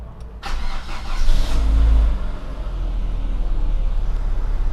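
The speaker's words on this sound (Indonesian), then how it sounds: "Kita nyalakan saja mesinnya biar tidak drop akinya" A KIA Carens engine cranks and catches with a short whirring start, then settles into a steady low idle rumble, close and fairly loud, with no talking.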